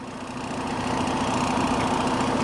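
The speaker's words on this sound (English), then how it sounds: "Engine starts with no problem at all." A Detroit Diesel DD15 truck engine with a high-pressure fuel rail leak idles steadily with a low, even drone and a constant hum, running alone at moderate loudness without any pauses.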